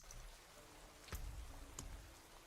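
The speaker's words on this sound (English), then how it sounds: "let's get my rain sounds back on" Rain sounds ambience plays in the background of a game stream, a faint steady patter of raindrops with a couple of louder drips and splashes standing out midway.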